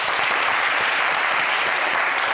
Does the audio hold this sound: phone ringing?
no